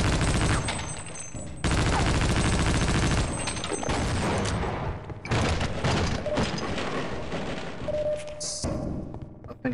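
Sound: gunfire from bigger guns in Half-Life: Opposing Force video game

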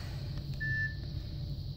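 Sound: Nokia 6010 phone beep when charger plugged in

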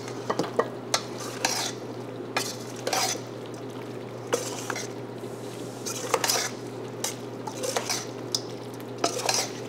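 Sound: tossing hot pasta with olive oil and basil in bowl

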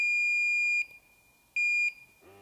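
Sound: gas measuring device beeping

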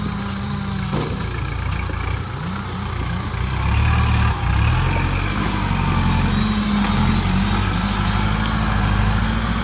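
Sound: small tractor engine running

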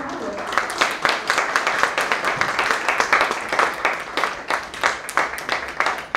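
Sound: audience applause

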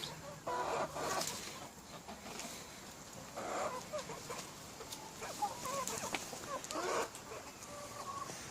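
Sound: chickens clucking

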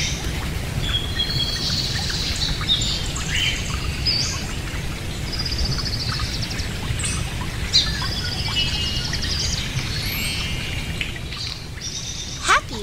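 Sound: parrot chirping and calling

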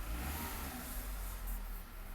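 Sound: Skoda Fabia engine revving while misfiring

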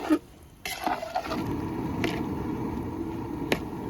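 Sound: stirring lemon and dried lime in a simmering pot

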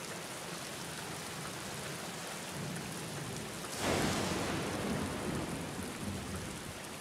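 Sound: rain falling in the video game The Black Mirror

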